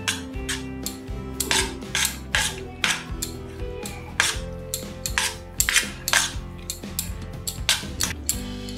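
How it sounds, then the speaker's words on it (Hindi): Leftover rice being stirred with egg in a pan using a metal spoon, repeated scraping strokes in an uneven rhythm, close and fairly loud, with a faint music bed beneath and no voices. "अब चावल को भी इसमें मिक्स करते जाएं।"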